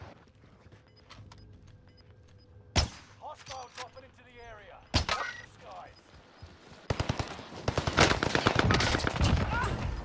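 Rapid automatic gunfire erupts in Call of Duty Warzone on Rebirth Island, with a few isolated loud shots early on, then dense, loud bursts of fire near the end as someone speaks between them.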